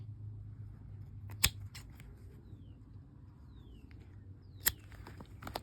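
Scissors snipping the old leather of an antique baseball glove: two sharp isolated cuts a few seconds apart, close and crisp, against a quiet room with faint handling noise and no talk.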